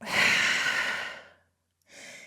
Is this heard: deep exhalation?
yes